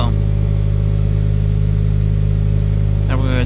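A 2015 Subaru WRX idles loudly and close with a catless downpipe and muffler delete, a deep, steady exhaust rumble, inside a garage, with a brief voice near the end.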